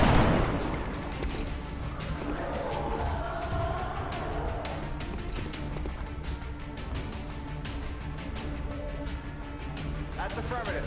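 Sustained heavy gunfire from a shot in the video game XCOM, a dense rattling fusillade with repeated sharp cracks and a constant booming rumble, loud and close throughout.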